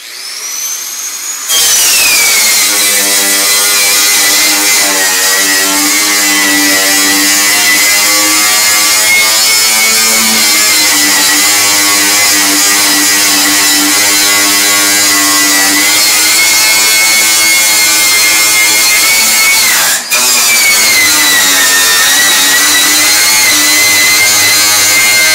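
A power tool whines loudly and continuously for the whole stretch while stripping a Ford Mustang fender during restoration, close up with no talking, its pitch dipping briefly near the end.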